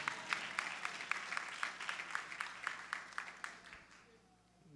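A church congregation claps together, steady rhythmic applause in even beats that carries for about four seconds, then fades out, leaving near silence.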